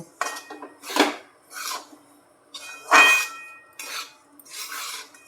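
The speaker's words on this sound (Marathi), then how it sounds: "छान असं परतून घेऊ" Grated coconut being sautéed in a pan for a karanji sweet filling, with a series of scraping, clinking spatula strokes against the pan coming in short separate bursts, close and fairly clear.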